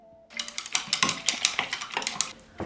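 A spoon clinks and scrapes against a bowl while milk and yeast are stirred together, giving a quick, steady run of close, bright metallic taps and rattles with no voices.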